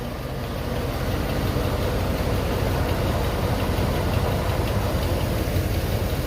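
A van's freshly repaired engine idles steadily nearby, a dense even rumble with no change in pace and no voices.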